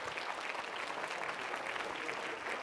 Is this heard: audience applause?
yes